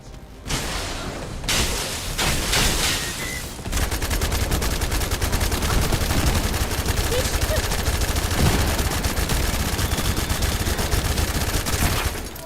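Dense, continuous gunfire in the looter-shooter game The First Descendant, a steady rattling barrage that runs loud and unbroken for most of the stretch after a short choppy start.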